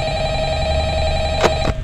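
In the video game Five Nights at Freddy's, a phone rings with a steady, clear electronic tone that holds throughout, broken near the end by a couple of brief clicks.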